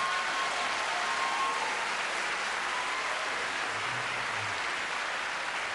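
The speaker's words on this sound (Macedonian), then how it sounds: "Дајте на аплауз" Audience applause at the Zlatna Bubamara 2015 audition: a steady, dense wash of many hands clapping that holds at an even level for the whole stretch, with no voices rising above it.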